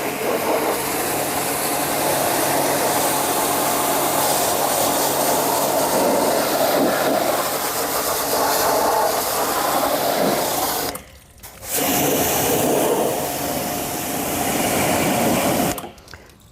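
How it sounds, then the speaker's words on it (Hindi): A high-pressure washer sprays water while cleaning an air conditioner, making a loud, steady hiss with a motor drone underneath, cut off by two short pauses. "ये जो होते हैं मतलब हाई प्रेशर वॉशर सबसे अच्छे होते हैं"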